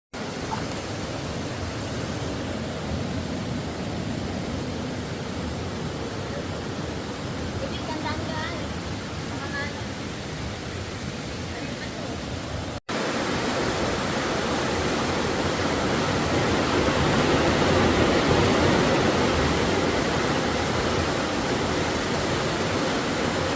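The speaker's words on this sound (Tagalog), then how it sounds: "ang ilog dito sa labas ng Cavite Underground River Cave" Constant rushing river water flows steadily outside the Cavinti underground river cave, a broad roar that grows slightly louder partway through, with faint voices briefly audible early on.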